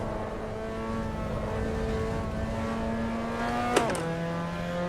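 A race car engine drones steadily in the Assetto Corsa EVO driving game, holding a constant pitch before a sharp gearshift blip drops it to a lower tone.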